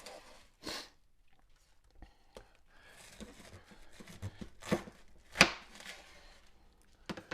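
Knife cutting through a peeled head of cabbage on a board, a few sharp separate chops and crunches spaced out over several seconds, close and fairly quiet, with faint rustling between them.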